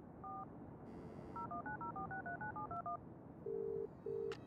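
In the video game Broken Sword 3, a run of telephone keypad tones beeps out a number in quick succession, followed by two longer electronic tones, clean and close.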